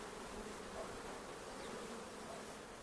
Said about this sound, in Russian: Набежала туча, пчела возвращается